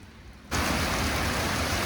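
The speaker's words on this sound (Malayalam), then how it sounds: "ഇവിടെ ഭയങ്കര മഴ കേട്ടോ തൃശ്ശൂരിൽ" After a brief quiet moment, a sudden dense roar of heavy rain sets in at a railway station near Thrissur, heard from a sleeper-class express train, and holds steady, loud and close all around.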